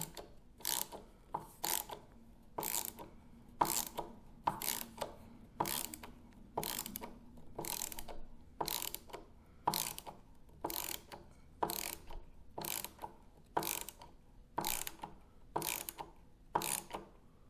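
Screwdriver ratcheting as screws go into a Bigsby B7 vibrato on a 1964 reissue Gibson ES 335, with steady, evenly spaced clicking bursts about once a second, close and clear, and no talking.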